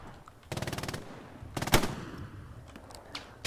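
Gunfire in Hell Let Loose, a tournament match: a rapid machine-gun burst followed by a loud single shot and scattered fainter shots, fairly near, with no talk.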